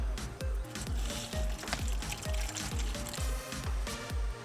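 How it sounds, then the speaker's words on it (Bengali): Hot water poured into a vessel in a kitchen makes a soft, rhythmic trickling with regular glugging pulses, close and fairly quiet. "আমি গরম পানিতে নিচ্ছি।"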